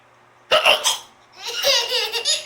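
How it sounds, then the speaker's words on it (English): A young child hiccuping at home, two sharp close hiccup bursts that run into bubbly laughter and giggling, loud and near. "Do you have the hiccups?"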